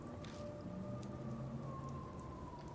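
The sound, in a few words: light rain falling, from the video game Death Mark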